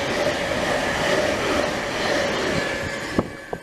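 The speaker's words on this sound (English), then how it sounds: "now passing through now, it's a class 700 to Cambridge" Class 700 electric train passing through a station, a steady close rumble of wheels and hum, ending with a couple of sharp clicks from the rails.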